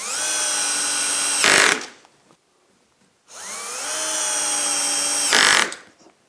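A power drill drives 3.5 mm by 16 mm screws in two long whirring bursts, each ending in a brief strained grind as the screw seats, separated by a short quiet pause.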